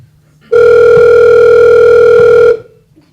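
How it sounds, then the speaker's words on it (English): A loud, steady telephone dial tone hums for about two seconds in a stage play and then cuts off, with quiet surroundings before and after. "Got to make a phone call."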